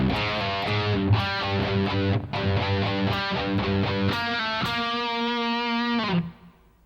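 Distorted electric guitar playing two measures of the verse riff, quick palm-muted chugs and picked notes in a driving rhythm, ending on a sustained ringing note that cuts off.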